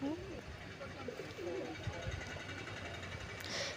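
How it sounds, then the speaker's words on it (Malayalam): Pigeons eating wheat from a hand on a road coo softly in low repeated calls close by, with a faint engine-like hum and some background noise underneath. "പ്രാവുകൾ എൻ്റെ കയ്യിൽ നിന്ന് ഗോതമ്പൊക്കെ മേടിച്ച് കഴിച്ചു കേട്ടോ"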